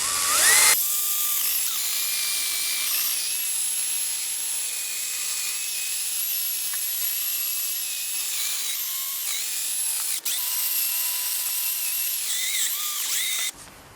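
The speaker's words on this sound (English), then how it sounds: "you're going to want to continue to sand until they've been removed completely" Wet-sanding a Volkswagen headlight lens with 500-grit abrasive, a steady high-pitched whirring grind that runs continuously at close range, with small shifts in pitch as the pass continues.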